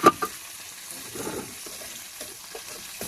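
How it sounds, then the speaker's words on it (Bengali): Potatoes frying in hot oil in a pan give a soft, steady sizzle, with a couple of sharp clacks at the start and light stirring scrapes now and then. "ভালো করে তেল গরম হয়ে গিয়েছে, এখন আমি সব আলুগুলো দিয়ে নেব"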